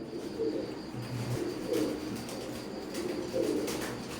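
A Teddy pigeon of Omani bloodline coos in soft, low, repeated phrases, several rounds at a steady pace, close by over a faint background hum.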